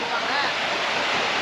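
Water plunging down a 1,300-foot waterfall in Switzerland makes a steady, dense roar with no letup, close and loud throughout.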